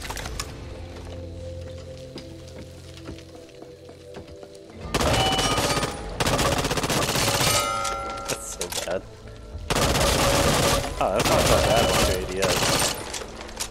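Bursts of rapid gunfire from 80s and 90s gangster-style guns in the zombie shooter game Back 4 Blood, loud and dense in two stretches after a quieter opening with game music and effects.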